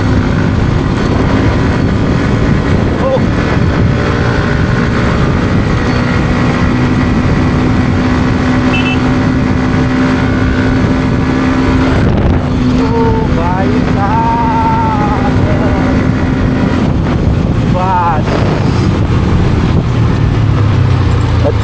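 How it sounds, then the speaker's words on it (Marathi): A car is driven at high speed along a highway, giving a steady, loud roar of engine and road noise throughout, with a voice talking over it at times. "अतिशय स्पीडमध्ये आपण गाडी चालवलेली आहे"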